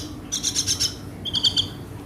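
Young Nias hill myna (jalak belong) calling during hand-feeding, two quick bursts of sharp, bright chirps close by over a low background hum.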